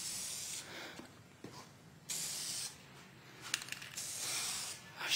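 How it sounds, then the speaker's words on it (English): Short test bursts from a spray can of VHT Niteshade taillight tint: several hissing sprays of varying length separated by brief pauses, close and fairly quiet, with faint clicks of the nozzle between them. "Make sure you do a little test spray, make sure it's coming out good."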